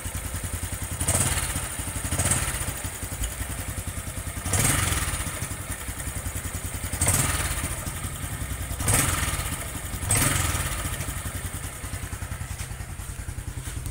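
A Honda Supra X 125 motorcycle engine idles steadily after a cold start, with a fast even putter and a muffled periodic thump every couple of seconds, close and alone.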